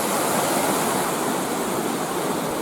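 River water rushes steadily through a mill race beside an old beetling mill, a loud, dense, continuous roar of flowing water filling the whole clip with no voices.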